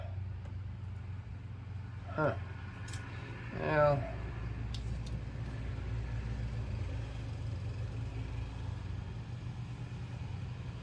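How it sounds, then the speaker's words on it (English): A Mac Tools dealer's truck drives past outside a home garage, a low engine rumble that swells briefly early on before settling into a steady distant drone. "that truck you just heard go by, that was the friendly neighborhood Mac tool dealers"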